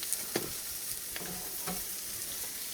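Bacon frying in a pan, a continuous close hiss and crackle with a few sharper pops and faint utensil scrapes.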